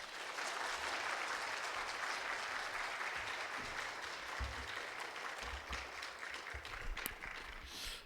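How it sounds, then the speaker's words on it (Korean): A church congregation claps steadily to welcome a missionary to the front, a dense wash of applause that holds for several seconds, then tapers off at the end. "우리 박수로 모시도록 하겠습니다"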